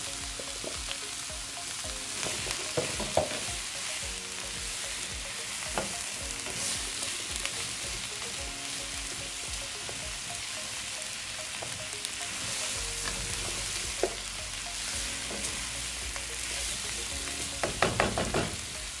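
Onion and zucchini fry in a pan with a continuous loud sizzle and crackle, broken by stirring scrapes and a cluster of sharper clatters near the end, with no voices.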